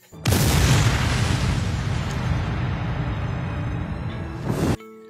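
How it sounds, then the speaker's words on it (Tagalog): A loud, booming explosion erupts and keeps roaring with dense rumbling for several seconds before cutting off abruptly. "mangbuto ang mga planta ug mga makina"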